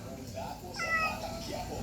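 A cat meows once or twice at close range, fairly quiet, with a short rising call amid household background noise and people talking nearby.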